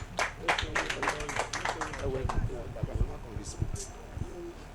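An audience at a Lagos Island local government event bursts into a short round of clapping that fades after a couple of seconds, mixed with scattered voices and a few isolated claps afterward.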